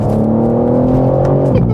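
BMW M3 Touring engine droning steadily at constant revs while driving, a loud sustained tone that dips slightly near the end, with no one speaking.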